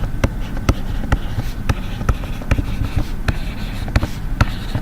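A pen writing out a maths answer on paper, with a steady series of sharp taps and scratchy strokes close up, repeating at a brisk, fairly regular pace.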